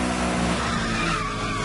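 A car drifts in Need for Speed Most Wanted, its tires squealing in a loud continuous skid over a steady engine roar.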